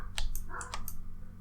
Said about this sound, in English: Oh, that's a dog in the background.